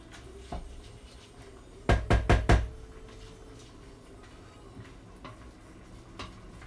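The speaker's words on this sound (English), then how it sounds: "I'm just pushing all the rice down around the side so it's in the water." A utensil in a pot of basmati rice and water makes four quick, sharp knocks in a row, then a few faint scattered taps in an otherwise quiet kitchen.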